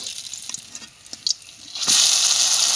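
Flipped pitha in hot oil in a kadai, with soft scattered crackles and small pops, then a loud, sustained bright sizzle surging up and holding steady to the end.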